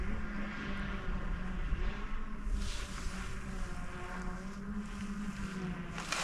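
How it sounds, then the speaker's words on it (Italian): A camera drone comes down to land during a mountain-bike outing in the Faedo area, giving a steady droning motor hum with a windy rush that swells now and then. "Giriamo il drone"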